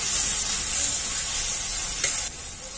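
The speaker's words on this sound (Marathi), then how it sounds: "कांदा आणि टोमॅटो अजून 5 मिनिटं चांगलं परतून घ्यायचंय" Onion and tomato sauté in hot oil for a dhaba-style chicken lapeta, making a loud, even sizzle that runs throughout, with a brief stir-like burst near the end.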